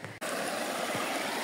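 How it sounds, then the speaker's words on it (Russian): Mountain river rapids in the Beshenka river canyon, a steady broadband rush of water close by, continuous after a brief cut at the start, with no talking. "Такие тут пороги шумят"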